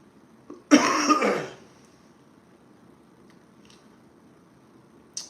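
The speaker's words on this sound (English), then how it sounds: "If I cough like that, it's just because I'm still a little bit congested." One single congested cough, harsh and close, lasting under a second, then near silence with faint small clicks.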